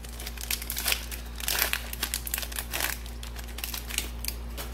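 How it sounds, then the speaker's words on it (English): A Pokémon Mewtwo booster pack is torn open and handled with steady, close crinkling and rustling of foil packaging that swells in short bursts over a constant low hum. No one talks. "opening the next Mewtwo pack"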